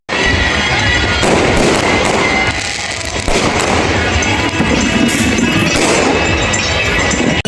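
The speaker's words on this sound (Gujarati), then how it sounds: "બધું પતી ગયું, ફટાકડા બી ફોડી લીધા છે" Firecrackers bursting outdoors during the Uttarayan kite festival in Anand, a loud dense barrage of crackling pops and bangs that continues without pause.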